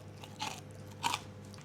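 Two quick crunchy bites into a flat, light cinnamon cookie, each a short crisp burst about half a second apart, close and fairly quiet over a low steady hum.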